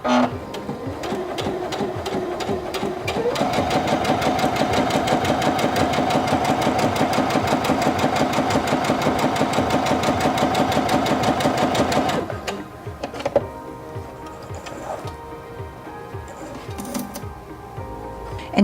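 Singer Featherweight C240 sewing machine stitching with its integrated even feed engaged, a steady rapid mechanical whir that ramps up, runs continuously for about ten seconds, then stops, leaving soft handling noises.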